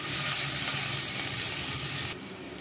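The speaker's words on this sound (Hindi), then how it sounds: "सारे मसालों को हम एक से दो मिनट तक भून लेंगे अच्छे से" Spices sizzle in hot oil in a pan for dal khichdi, which may include garlic and onion. The frying is a steady, close crackle that cuts off abruptly near the end.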